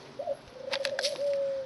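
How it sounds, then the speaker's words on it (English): A rejected dove gives a soft, close coo with a sustained tonal note, accompanied by a few faint clicks in a quiet enclosure. "The dove you hear cooing is the reject dove."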